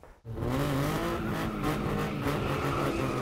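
A six-cylinder BMW engine revs hard and steadily at high speed on a dyno, loud and close, with a smooth, continuous mechanical roar and no talking.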